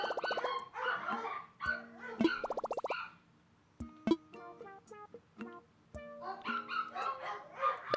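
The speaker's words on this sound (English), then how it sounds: "Hear my dogs in the background getting overexcited." Excited dogs bark in the background in scattered bursts of sharp yips, with quieter pauses between them and a busy mix of other game sounds.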